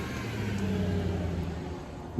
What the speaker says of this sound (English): We'll wait for the car to go by.